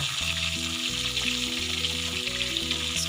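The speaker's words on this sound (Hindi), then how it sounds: "इसको हल्का सा फ्राई करेंगे।" Green chillies frying with browned meat in a karahi, a broad steady sizzle running the whole time beneath a loud melodic music track.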